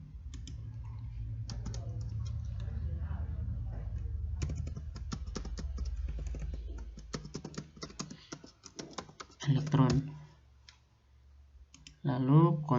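A computer keyboard being typed on and a shortcut pressed while building an Android app in PowerPoint: quick close clicking keystrokes in bursts, with someone speaking quietly in between.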